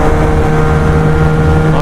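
Bajaj Pulsar 220F BS6 and Husqvarna Vitpilen 250 BS6 motorcycles in a drag race, their engines roaring loudly and steadily at speed in a brief burst.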